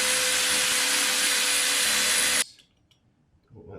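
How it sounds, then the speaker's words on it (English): Power tool whirring steadily as bolts come out of a 2024 Beta 390 RR-S motorcycle during an oil-guard fitting, loud and close, then cutting off abruptly into near silence with faint handling noises. "take all these bolts out"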